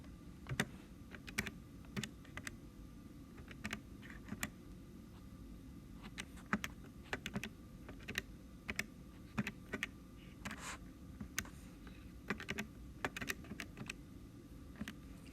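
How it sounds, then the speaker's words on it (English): Numbers are tapped into a calculator in a steady run of faint, light clicks over a low background hum, with no talking. "So we need to type this into our calculator."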